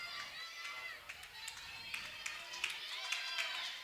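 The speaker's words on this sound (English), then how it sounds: "Michigan dugout cheering on their senior leader" Michigan softball players cheering and clapping from the dugout during a game against USF, a lively group of high voices with scattered claps, heard a little distant.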